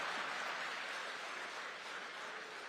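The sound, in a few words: audience applause for the President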